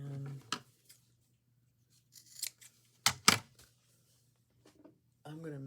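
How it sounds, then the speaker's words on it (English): Scissors snip through a small piece of rope during a dollar-store craft project, giving a few sharp, close cuts in short bursts, with speech before and after. "I'm going to cut a little bit of rope"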